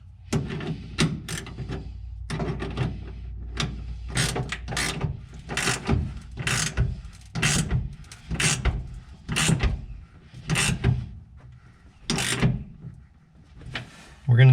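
Clamps of a retractable tonneau cover being tightened on a pickup truck bed rail, giving a series of close, sharp ratcheting clicks and mechanical clunks in uneven bursts, with brief stretches of talk mixed in.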